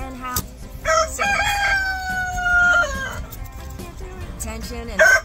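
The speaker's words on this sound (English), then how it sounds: "I got an egg-laying song going on in the hen house." A hen's egg-laying song rings out inside a hen house: loud, repeated squawking cackles in bursts with brief pauses between calls, fairly close by.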